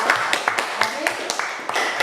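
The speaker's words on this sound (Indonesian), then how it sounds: "Tepuk tangan untuk Julia." A classroom claps for a student, a short burst of loose, uneven hand claps with distinct individual slaps lasting about two seconds.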